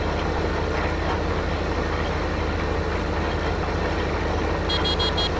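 A loud, steady tractor engine drone runs throughout in Farming Simulator 15, and near the end the tractor horn sounds in a quick burst of short honks.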